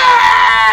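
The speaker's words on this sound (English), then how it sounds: "He let out a scream" A man lets out a sustained, high, strained scream, loud and close, held steadily for under a second with no other sound.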